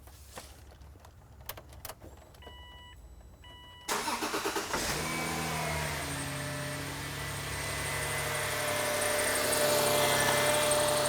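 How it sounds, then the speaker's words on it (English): A Subaru engine starts up with a short cranking whir and catches into a steady idle. Faint clicks and key jingles come first, then the close, even engine hum continues. "we're now going to go start the vehicle"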